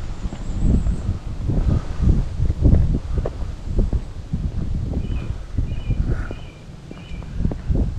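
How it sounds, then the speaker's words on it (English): Gusty wind buffets the microphone in low rumbling bursts, with faint footsteps and a few distant bird chirps in the background, in a village of old flint stone houses and barns. "Wind seems to be picking up."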